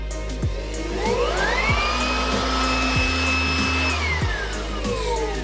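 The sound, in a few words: car blower vacuum running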